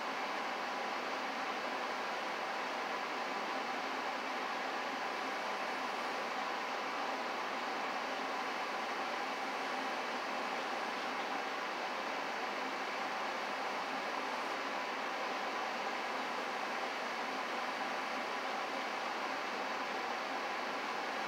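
An air conditioner runs steadily throughout, a constant broadband hiss and hum with no speech over it.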